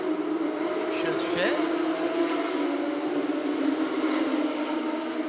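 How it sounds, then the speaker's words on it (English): Porsche Carrera Cup Asia race cars at Sepang idle along behind the safety car, their flat-six engines droning in a steady, layered hum with a brief rising whine, under a commentator's voice. "Even behind the safety car, these flat sixes sound absolutely phenomenal, don't they?"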